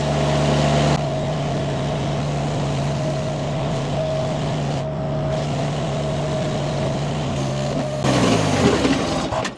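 A Chinese mini skid steer's small engine drones steadily and loudly, holding a constant hum before briefly surging and faltering near the end as it bogs down under load.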